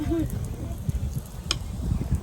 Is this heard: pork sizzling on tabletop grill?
yes